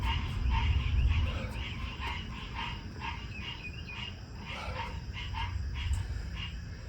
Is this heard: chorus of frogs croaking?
yes